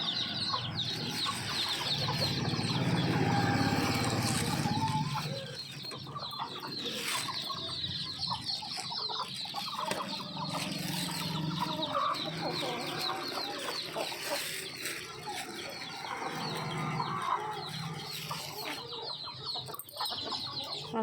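Seventeen-day-old chicks pecking at spinach leaves keep up soft, busy clucking and peeping, nearby and continuous, with a person's voice talking over them at times.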